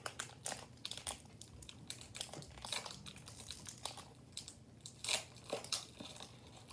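Crinkly plastic wrapper of a Pokemon trading card pack crackles and rustles in quiet, irregular bursts as it is handled and torn open, close and fairly soft with no talking.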